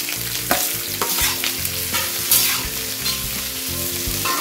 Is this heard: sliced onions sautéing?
yes